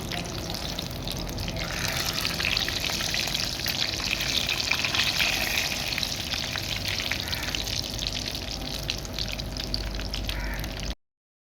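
Cabbage roll pakodas fry in hot oil, a dense, steady crackling sizzle close by that holds evenly until it cuts off abruptly.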